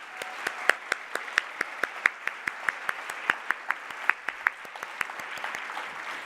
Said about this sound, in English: please, one more round of applause for all of the recipients tonight.